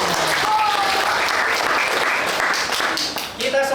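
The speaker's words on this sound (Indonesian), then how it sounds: "tepuk tangan buat kita semua" Audience at a learning session breaking into sustained clapping, a dense, even rush of applause that tapers slightly near the end, with a voice faintly audible underneath.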